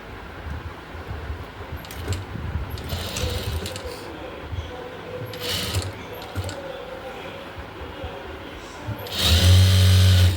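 A sewing machine stitches a cross seam on folded fabric for a frock nighty, running in short, close mechanical whirring bursts and ending in a louder, denser run, with a voice speaking at times.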